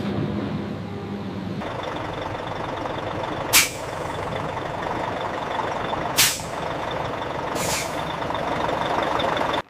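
Truck air brakes being set after a tank delivery give three sharp hissing bursts over a continuous idling engine rumble outdoors.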